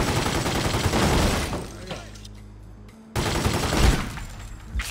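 Gunfire in The Godfather 2 video game as shots are fired through a fence: loud, dense bursts of shooting in the opening second and a half, a quieter lull, then another heavy burst of fire, with game voices mixed in.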